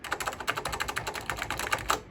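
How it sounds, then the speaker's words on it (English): Rapid, steady typing on the built-in mechanical keyboard of a Macintosh Portable laptop, close by, with even clacking keystrokes and no talking. "This actually has a mechanical keyboard built into it."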